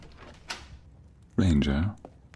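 An indoor door opens in an ASMR role-play scene: a soft click comes first, then a loud, drawn-out creaking groan up close that fades into quiet.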